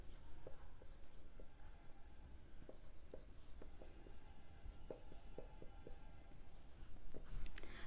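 Chalk or marker scratches and taps across a board during an accountancy lesson, in short, quiet strokes with small gaps between them, faint and close by.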